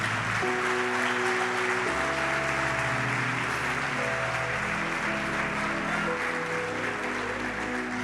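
A church congregation applauds steadily during a sermon. The dense, continuous clapping is heard over sustained keyboard or organ tones.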